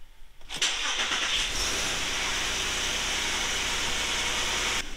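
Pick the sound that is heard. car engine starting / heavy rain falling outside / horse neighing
car engine starting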